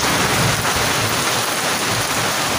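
Torrential village downpour in a thunderstorm, a loud dense wash of rain with a low rumbling undertone throughout, steady and close.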